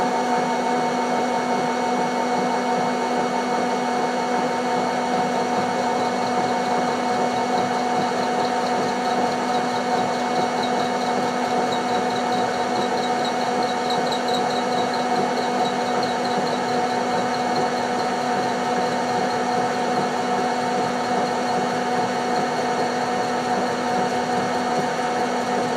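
A Holbrook B9 lathe cuts metal with a steady, unbroken mechanical whine and hum, loud and close, holding one even pitch throughout with no talk.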